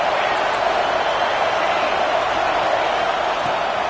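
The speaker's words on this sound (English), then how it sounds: "This crowd bringing the energy and noise early." A college football stadium crowd roars in a steady, loud, dense wash of cheering and noise that holds unbroken throughout.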